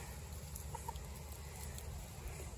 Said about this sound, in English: anyone ever say to you, you're just a chicken?